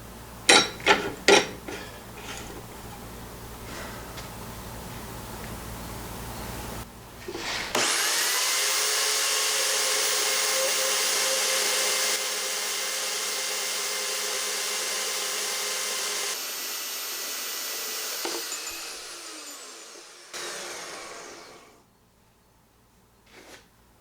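A VEVOR portable band saw on a stand cuts through 2 7/8 inch oil field tubing with a steady high whine lasting about ten seconds, after a few sharp metal knocks. The tone fades as the cut finishes and the blade winds down.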